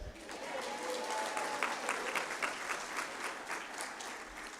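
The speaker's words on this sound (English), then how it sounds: "So let's clap it up," Steady crowd applause at a Black graduation recognition ceremony, a continuous wash of clapping with some voices mixed in underneath.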